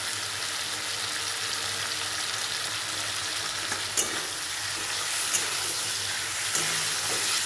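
Chicken curry with cumin powder, pepper powder and other spices is sautéed in a pan, giving a continuous loud sizzle and frying hiss with occasional stirring scrapes.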